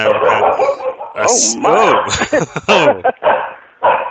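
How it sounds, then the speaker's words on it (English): A dog barks and yips in several short, loud bursts close by, mixed in with conversation indoors during an interview. "my killer dog here. He didn't like that question."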